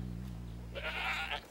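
A baby goat lets out a single short bleat over a low steady hum, close and fairly clear.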